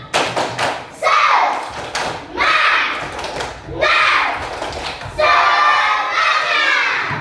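Schoolchildren in a classroom doing the tepuk semangat clapping chant, bursts of rhythmic claps and thumps alternating with loud chanted children's voices in several phrases, close and lively.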